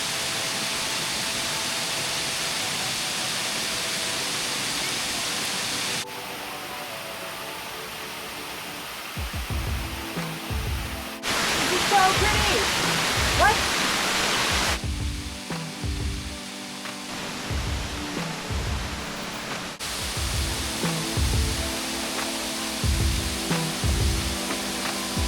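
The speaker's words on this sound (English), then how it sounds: "we can now hear the waterfall, like really close" A waterfall roars close by as a steady broadband rush, changing in tone from moment to moment as if the listener moves, with a rhythmic low thumping underneath through much of it.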